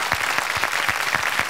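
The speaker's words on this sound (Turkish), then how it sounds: "Alkışlar Meriç için" Studio audience applause for contestant Meriç on a Turkish folk-song TV competition, a steady dense burst of clapping heard alone and at close range.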